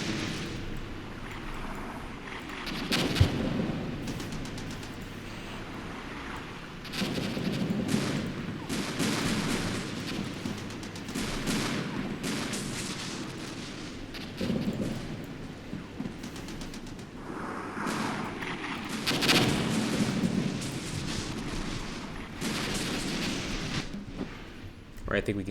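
Artillery and gunfire rumble through a battle in the Armored Brigade war game, with repeated booming impacts and crackling volleys spread across a continuous din.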